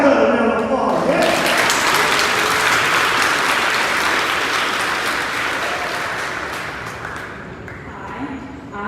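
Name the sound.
applause for a presenter at virtual awards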